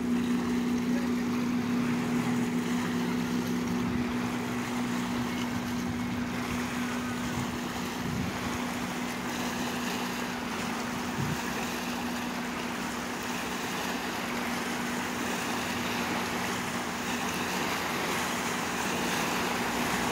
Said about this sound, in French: Pédalo à moteur électrique.